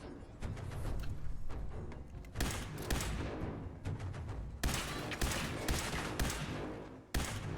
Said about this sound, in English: I'm shooting him directly in the head.